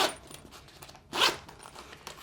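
A zipper on a backpack's quick-access pocket is pulled open in short rasping strokes close up, with one louder, quicker zip near the middle.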